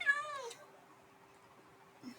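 A cat meows in a video game, one clear drawn-out meow at the start that fades into near silence, with a faint sound near the end.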